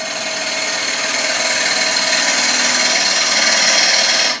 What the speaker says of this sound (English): I can go back to that hollowing cut